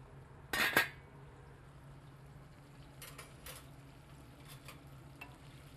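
A utensil scrapes through wilted greens and shrimp in a pot, with one loud clatter near the start and then a few softer scrapes and clinks against a low background hum.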